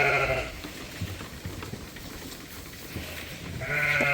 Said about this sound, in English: We got a bunch of lambs on the drinkers, pushing each other off the bottles.